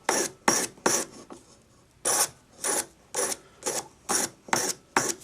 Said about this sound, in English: sacrilegiously file the point off, sand it